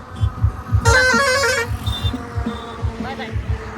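A vehicle horn gives one sustained honk over steady low rhythmic thumping, with brief fainter tones afterward, as a vehicle is started at a wedding venue in Deola.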